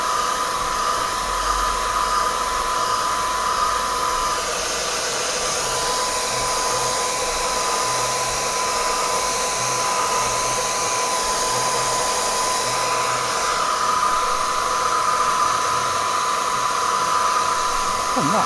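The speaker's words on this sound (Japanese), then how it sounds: "ドライヤーで十分だと思います。" A hair dryer heating the back of an HTC J Butterfly HTV31 (Butterfly 3) phone to loosen it for a battery swap, blowing with a steady, loud, unbroken rushing hiss that never changes.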